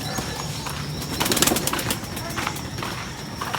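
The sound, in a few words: racing pigeons circling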